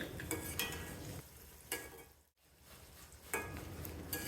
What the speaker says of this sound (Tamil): வெங்காய வடகம் வறுக்கும்போது எண்ணெய் நல்லா சூடானதுக்கப்புறம் அடுப்பை ஃபுல்லாக லோ ஃப்ளேமில் வச்சுட்டு வறுக்கணும்